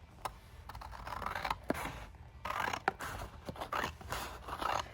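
Scissors cut through paper in a few steady bursts of snipping and sliding, close and fairly quiet, while cash envelopes are being made; no one speaks.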